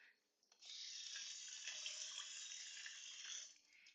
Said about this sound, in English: with this red onion after rinsing it off.